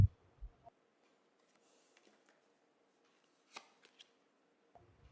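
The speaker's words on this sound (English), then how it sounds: "I'm gonna shuffle the cards until I feel the deck is ready" A deck of tarot cards is shuffled by hand, giving soft, quiet riffles and flicks in short scattered bursts with near silence between them and no talking.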